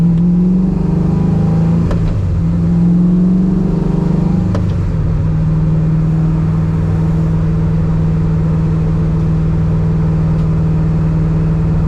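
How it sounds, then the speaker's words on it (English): An Oldsmobile with a swapped-in LS7 V8 bogs down after the clutch comes out too quickly, giving a loud, steady low engine drone with a couple of brief knocks and no talking. "Clutch out a little too quick and it bogged down."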